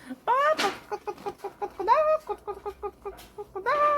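Someone imitates a rooster or hen with the voice, opening with a rising squawk, then a steady string of short clucks broken by more squawks, close and clear.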